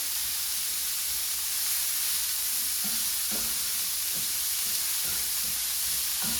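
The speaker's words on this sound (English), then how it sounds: "we want to make sure we mix it in nicely and get those juices in there" Sausage jambalaya mixture being stirred in a pot, a steady sizzle and hiss with soft intermittent scrapes and clunks of the spoon as the juices are worked in.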